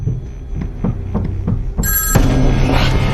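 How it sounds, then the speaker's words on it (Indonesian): A telephone in a horror scene from the film Antlers rings unanswered, a loud warbling electronic ring entering after a slow, throbbing pulse like a heartbeat. A low rumble and hum continue beneath it. "Namun telepon Julia tidak diangkat dan hanya dibiarkan berdering begitu saja"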